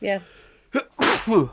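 Someone sneezes once, sharp and close, in a quiet indoor conversation. A person speaks briefly right before it.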